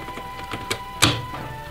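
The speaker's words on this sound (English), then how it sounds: "Let's see if my printer works now." A Coleco Adam printer, freshly repaired and fitted with a re-inked ribbon, gives a few sharp mechanical clacks and ticks at uneven intervals. The loudest strike comes near the end, close and fairly quiet.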